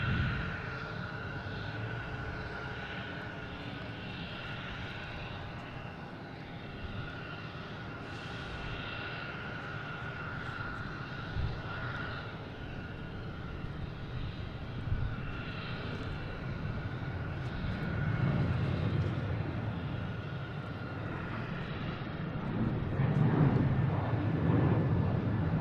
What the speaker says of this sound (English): Oh, we got one taking off now. United Airlines heading to Newark.